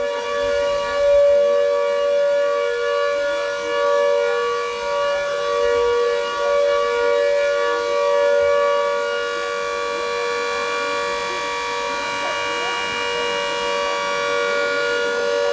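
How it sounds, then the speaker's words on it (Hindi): A loud, continuous wailing civil defense air raid siren drones steadily for a long stretch during a mock drill in Shimla, its tone rising and falling slightly, with faint background noise beneath. "मॉक ड्रिल के जरिए आप देख रहे हैं फिर से सायरन यहाँ पे बजा है।"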